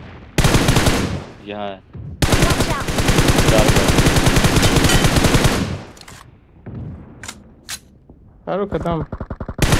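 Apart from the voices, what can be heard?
gunfire from a gun in video game BGMI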